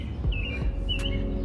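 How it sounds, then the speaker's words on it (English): Birds chirp outdoors on a hot day, a few faint tweets and whistles rising over a steady low background hum. "Wow, the birds are so loud today."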